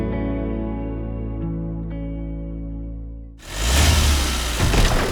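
A monster truck engine from a touring show revs hard, a steady deep drone swelling into a loud, rough roar as the front tires lift off the ground, close and without speech.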